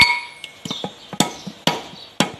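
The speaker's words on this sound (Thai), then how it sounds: "ใช้ค้อนครับ" Hammer tapping out a rear wheel seal on an L-series vehicle, several sharp, close metallic strikes at an uneven rhythm, mixed with lighter knocks, with no talk.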